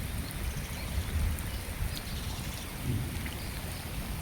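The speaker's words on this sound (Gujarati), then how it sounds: "બરાબર વરસાદ મસ્ત મજાનો આવી ગયો છે" Heavy monsoon-season rain pours steadily in a village in Gujarat, a dense continuous hiss with low rumbling underneath, no voices, sustained evenly throughout.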